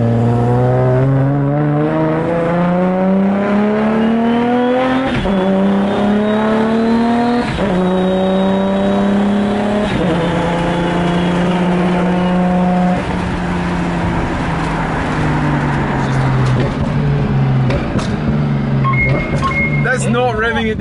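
A 1000-horsepower Nissan R34 Skyline GT-R engine revs up and down repeatedly in rising and falling sweeps, loud and close, with people talking over it.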